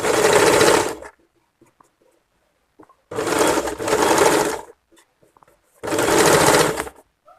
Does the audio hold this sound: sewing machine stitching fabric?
yes